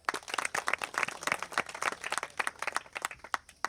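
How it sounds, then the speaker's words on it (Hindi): Audience applause at a livestock-farming awareness campaign gathering in Kirada, Haryana, a fairly quiet, steady patter of many hands clapping for a few seconds with no voices over it. "एक बार आप सभी के लिए, खुद के लिए खासकर एक बार जोरदार तालियां होती हैं"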